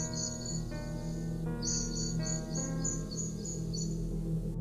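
Birds chirp in the early morning, around 5 to 6 am, in a thin repeating pattern of high calls over a steady, faint background hum.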